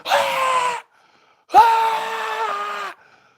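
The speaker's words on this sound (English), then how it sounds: "The cows literally just scream at the top of their lungs." Two long, loud moos, one short and one drawn out, sounding close with silence between them.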